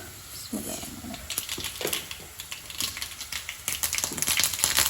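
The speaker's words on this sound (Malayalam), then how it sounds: "ഇവിടെ കടുക് പൊട്ടുണ്ട്." Mustard seeds splutter in hot coconut oil as irregular, sharp crackles and pops, fairly faint and scattered over a low background hiss.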